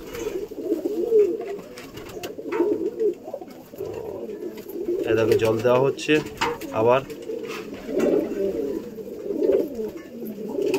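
Several pigeons coo steadily around a water dish, their low rolling calls continuing throughout while a person talks over them.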